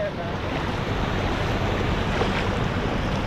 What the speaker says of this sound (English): it's a fair water crossing